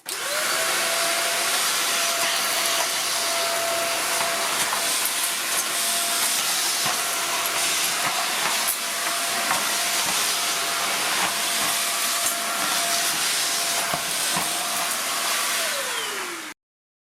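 A Silvercrest SHZK 600 A2 corded 600 W vacuum cleaner runs steadily and loudly on its own throughout, with a constant motor whine over a broad rushing hiss of airflow that shifts slightly as it sucks up dust, dirt and dog hair.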